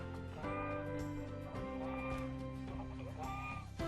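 Backyard chickens, a rooster and hen, clucking and calling in repeated short bursts close by, with some faint background poultry noise around them.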